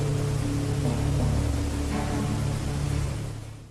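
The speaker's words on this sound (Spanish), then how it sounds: "se encuentra el sonido de una de las cascadas más ruidosas y espectaculares de los Alpes," Trümmelbach Falls in the Lauterbrunnen valley of the Alps roar as a loud, dense, steady rush of water with a deep rumbling undertone, broadband and unbroken, with no voices.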